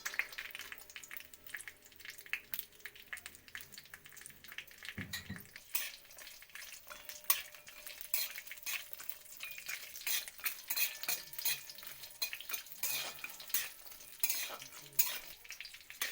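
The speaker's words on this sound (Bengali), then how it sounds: "এগুলো হচ্ছে হালকা আঁচে ভাজতে হবে" Raisins and cashews frying on low heat in a pan, a steady soft sizzle with frequent stirring scrapes and light utensil clinks throughout, close and unbroken.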